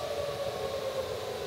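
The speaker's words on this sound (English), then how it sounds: "Tornado sirens are going off." Tornado warning sirens wail steadily at the start of a storm, a sustained droning outdoor tone heard from a distance with no talk over it.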